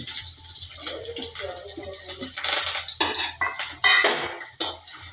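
Spoon clinking and scraping against a bowl while mixing oil, garlic paste, onion and coriander for homemade gobi manchurian, a run of close, irregular metallic taps and scrapes with no talk.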